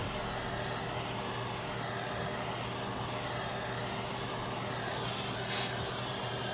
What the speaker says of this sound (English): you're going to take your torch and you're going to warm this baby up right here